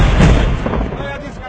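A military mortar fires during a drill, giving one loud, close blast at the start that rolls into a long decaying rumble, with voices nearby.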